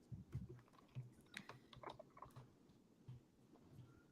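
Quiet, irregular clicking of keys being typed on a computer keyboard, close by, with small bursts and pauses and no talking.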